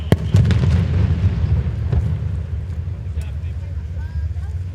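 An explosive device detonating aboard a ship during a military special operations capabilities demonstration on the water in downtown Tampa: a sharp blast onset followed by a sustained, rumbling low roar that lingers for several seconds, with faint crackles above.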